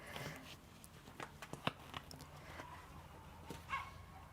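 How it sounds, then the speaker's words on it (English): A dog barks several times at moderate distance, the short sharp yaps scattered through a quiet background. "dog's barking"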